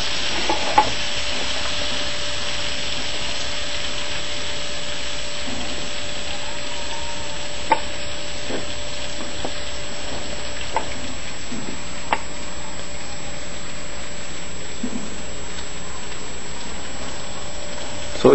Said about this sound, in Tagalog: check natin kung mainit na yung butter natin sa pan. So, fry na lang natin siya.